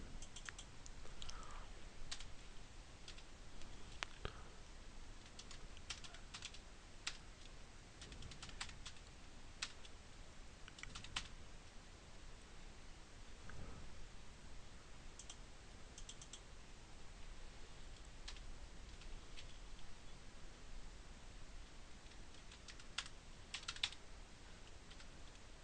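Someone types quickly on a computer keyboard, entering records into a MySQL Workbench table. The keystrokes are quiet and irregular, with scattered sharper taps and no talking.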